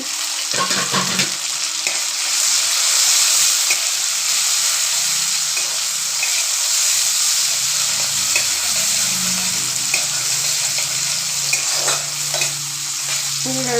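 Chopped tomato fries in a pan for a pumpkin-greens and masoor dal dish, with a steady close sizzle throughout and occasional stirring scrapes, and no talk.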